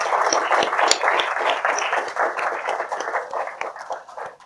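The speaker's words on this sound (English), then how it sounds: "I think it deserves a very big clap from all of us" An audience at an economics talk applauds with dense, steady clapping from many hands for several seconds, tapering slightly at the end.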